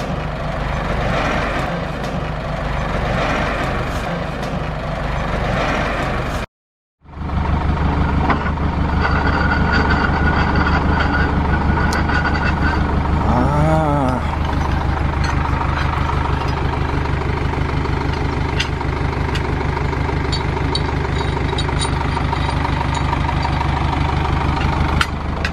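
A winch spools cable on a Land Rover Series 2a 109 with a 4DB1T diesel and Volvo portal axles, a loud continuous mechanical drone with steady engine rumble, broken by one brief cut near the start.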